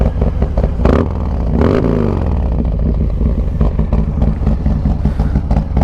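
A 2019 Harley-Davidson Fat Bob with an S&S 128 engine revs up close, its deep, loud exhaust rumble swelling in a couple of sharp throttle blips before settling back to a heavy, lumpy idle.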